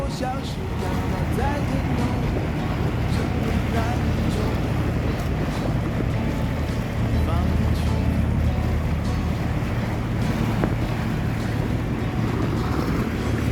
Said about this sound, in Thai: นี่เรือโดยสาร